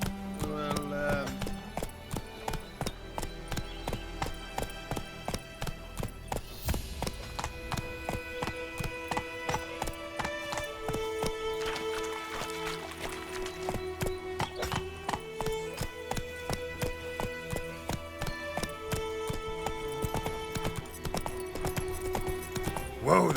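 Horse Roach's hooves in The Witcher 3: Wild Hunt, a steady rhythmic clip-clop of hoofbeats over a game music bed, with a voice speaking briefly partway through.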